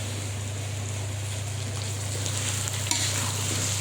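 Country chicken stir-fried in a pan during kosha, a dense, steady sizzle with faint stirring scrapes, close and continuous with no talking.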